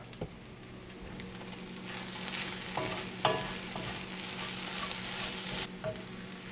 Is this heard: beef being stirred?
yes